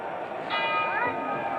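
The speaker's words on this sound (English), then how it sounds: "And the bell ending round 10." A boxing bell rings to end round 10 of a world middleweight title fight between Dick Tiger and Joey Giardello, a short ring heard over steady arena crowd noise.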